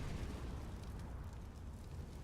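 A flashbang grenade going off during a competitive Counter-Strike match on Overpass, heard as a dense, muffled rumbling burst that stays steady through the short clip, fairly quiet and with no talk over it.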